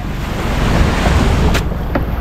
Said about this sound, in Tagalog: No, lalaki alon.